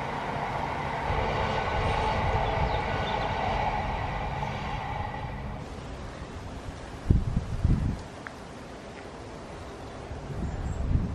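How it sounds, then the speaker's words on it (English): A train on the Truro–Falmouth branch line in Cornwall, heard from a distance as a steady low rumble mixed with wind and rustling, fading out about halfway through, followed by a few close thumps. "I can hear the train running along the Truro Falmouth branch line."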